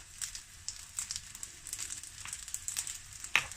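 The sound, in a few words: stirring fried rice with oyster sauce in a pan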